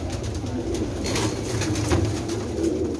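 Parwazi pigeons coo in low, soft, rolling bursts against a steady outdoor background, with no talking.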